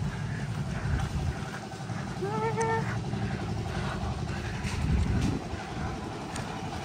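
A tractor hauling goods along a hillside road near a monastery in Ilam, Nepal, gives off a steady, low engine rumble throughout, mixed with gusty wind noise and a few faint bird calls.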